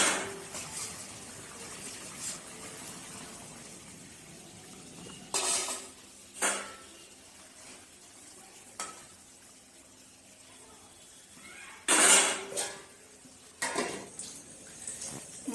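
A fish curry cooks in a pan: fish lifted out, spices fried and water poured in. Scattered clinks and scraping stirs of a utensil against the pan stand out over a quiet, low background.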